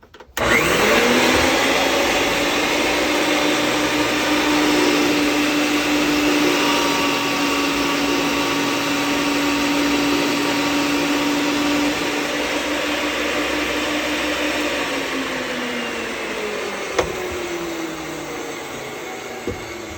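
Ridgid 535 gas pipe threader machine, early style, cutting threads on metal pipe: a loud, steady motor drone with grinding whine runs nearly twenty seconds, easing slightly near the end.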